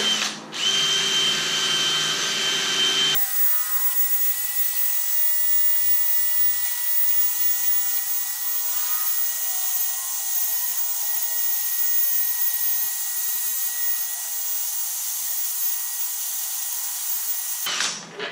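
A power sander fitted with 500 grit sandpaper works over a foggy car headlight, giving a loud, steady motor whine that runs for about fifteen seconds before cutting off, with no voices.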